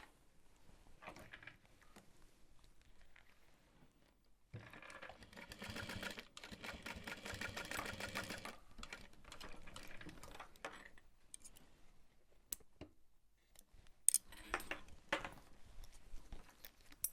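A sewing machine stitches through the layers of a backpack, running in fast bursts between short pauses, with light handling clicks close by.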